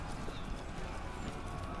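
Many horses gallop together in a dense, continuous rumble of hoofbeats, loud and close, like a cavalry charge in the video game Thrones of Britannia.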